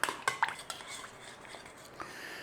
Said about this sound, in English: All we need to do is give this a stir up